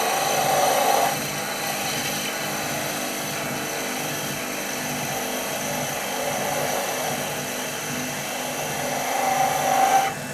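Skew chisel cutting wood on a lathe while turning a honey dipper, a continuous close whirring hum of the spinning lathe with a steady cutting hiss, slightly louder at the start and end, no talk.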